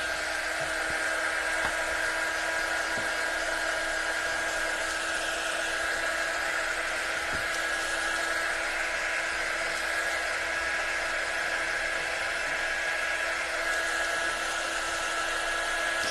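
A hair dryer runs continuously at close range, a steady loud whir used to dry a seashell beach-style home decor piece, with no talk over it.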